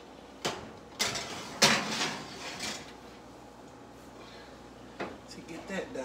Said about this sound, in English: I'm gonna go ahead and just put that in the oven.